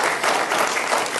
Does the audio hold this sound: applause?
yes